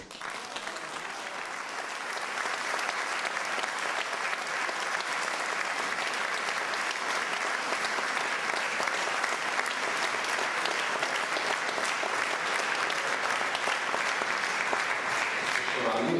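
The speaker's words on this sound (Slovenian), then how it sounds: "aplavz posebej" Sustained applause from a concert audience at a men's choir performance, dense and steady, builds in the first seconds and keeps going without a break.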